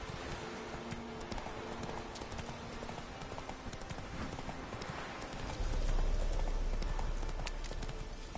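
Roach the horse gallops in The Witcher 3, with rapid rhythmic hoofbeats that run steadily and close, and a low rumble swelling toward the end.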